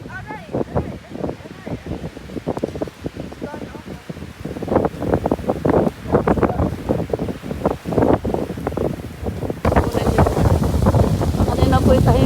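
Strong wind buffets a small fishing boat at sea during net fishing as a squall hits, roaring and gusting steadily with sloshing water and some voices underneath.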